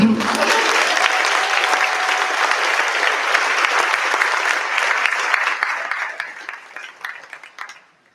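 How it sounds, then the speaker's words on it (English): A large audience at a nursing school ceremony applauds for the students, dense loud clapping that holds steady, then tapers off into a few scattered claps. "I want to take a moment to applaud all of you for making it this far."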